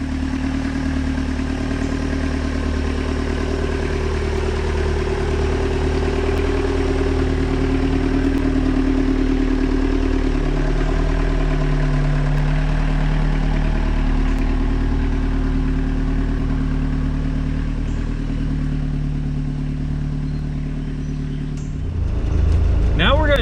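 A diesel-powered Jeep TJ Wrangler fitted with a transfer-case doubler rolls down a hill in high range, its engine a steady low rumble with faint clatter, easing slightly before a rise in revs at the end.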